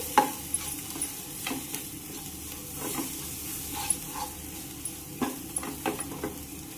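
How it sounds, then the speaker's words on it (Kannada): Raw mango chilli paste being stirred in a hot pan, a quiet steady sizzle broken by soft irregular scrapes and taps of the spoon against the pan. "ಈಗ ಹಾಕಿ ಎಲ್ಲ ಬಿ ಚಲೋದಂಗ ಮಿಕ್ಸ್ ಮಾಡ್ಕೋರಿ"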